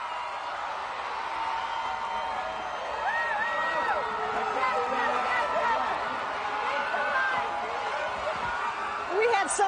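A crowd cheers and whoops in the Warrior Dome at a Knights and Warriors game show final, a continuous loud roar of voices with an announcer talking over it.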